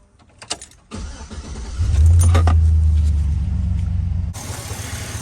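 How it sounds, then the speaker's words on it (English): Keys jangle, then a 2005 Chevy Silverado pickup engine cranks and catches, settling into a steady, close idle that rumbles on for a few seconds before a shift in the background noise. "go ahead and start the car just to get the oil circulating"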